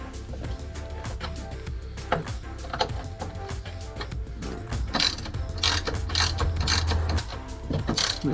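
A hand ratchet works on rear differential bolts of a Subaru (STI, WRX or Forester XT) during a diff bushing install, giving steady close-up clicking with metallic rattles, slightly louder toward the end, with no talking.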